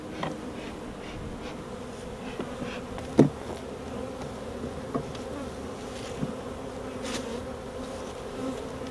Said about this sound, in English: Are these neighbor bees?